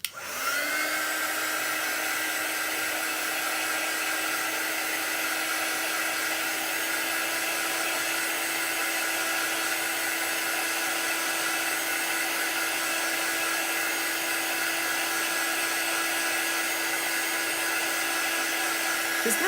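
Steady high whine of a hair dryer drying chalk paint, close and constant from start to finish, running alone with no voices.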